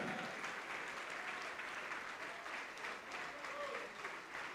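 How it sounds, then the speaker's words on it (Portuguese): A church congregation applauds during a sermon, giving steady, continuous clapping heard at a distance and fairly soft, with voices murmuring beneath it. "Vamos aplaudir mais ao Senhor Jesus."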